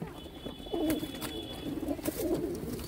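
Pigeon chicks coo in soft, low repeated warbles, close and fairly quiet over a faint background hum, with no talking.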